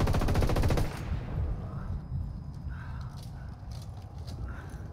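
Rapid machine-gun bursts from in-game gunfire in Ghost Recon Wildlands, a loud dense volley at the start that drops into scattered, sharper shots echoing over a steady rumble.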